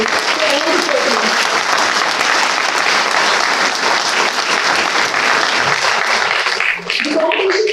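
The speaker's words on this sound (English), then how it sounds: "let's give them a huge round of applause for all the performers" Audience applause for performers at a national moot court competition valedictory ceremony, loud sustained clapping from a large crowd filling the hall, fading slightly near the end.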